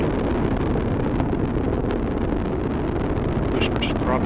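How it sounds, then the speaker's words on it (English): An Atlas V rocket launching OSIRIS-REx: a continuous, even broadband roar heard from a distance and buffeted by wind, with faint talk underneath. "the Atlas rocket carrying OSIRIS-REx has gone supersonic"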